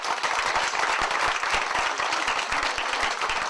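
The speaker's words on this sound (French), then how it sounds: "Des acclamations chaleureuses qui vont droit au cœur du jeune humaniste." Warm applause with cheering from an audience in Jerusalem for a young French humanist writer and philosopher after his speech, dense steady clapping sustained throughout at moderate distance.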